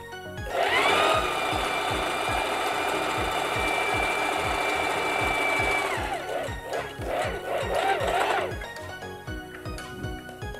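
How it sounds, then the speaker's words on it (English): A sewing machine runs a straight stitch on stretch fabric, a rapid, even mechanical chatter of needle strokes at close range with a steady motor whine, slowing into separate clunks near the end. "We are just going to do a straight stitch."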